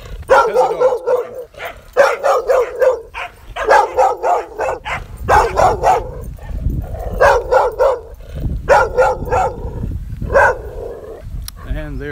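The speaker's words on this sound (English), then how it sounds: "And there's a dog barking." A dog barks repeatedly in bursts of sharp woofs and yips during an outdoor neighbourhood walk, fairly close and loud, with a person's voice talking between the barks.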